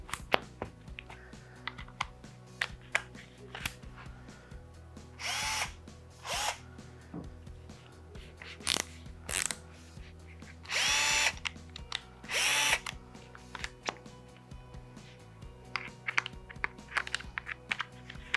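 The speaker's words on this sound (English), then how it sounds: "So I've been drilling a lot of corners, around a lot of corners in weird places." A Bosch power drill runs in short bursts while working on a resin, gold leaf and bog oak guitar build, close and loud whirring spurts separated by quieter clicks and handling noise.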